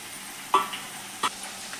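Oil tempering spices for amla pickle, with dried red chillies, mustard seeds, garlic, fenugreek seeds and a pinch of asafoetida, gives a soft steady sizzle broken by a couple of sharp stirring scrapes and crackles.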